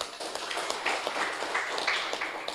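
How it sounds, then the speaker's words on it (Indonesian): Audience applause for NU, the Indonesian Islamic organisation, at a speaking event: a dense, steady patter of many hands clapping, filling the whole moment without talk. "Tepuk tangan untuk NU."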